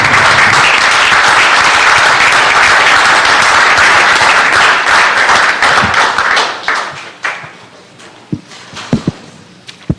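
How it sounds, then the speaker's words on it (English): Committee members and attendees in a public meeting room applaud loudly and continuously, then the clapping thins into scattered individual claps and taps as it winds down. "We could applaud if you like."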